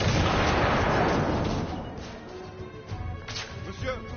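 A grenade explosion in a PS4 war video game, a loud broad blast at the start that rumbles and decays over a few seconds into battle noise, with voices shouting over it.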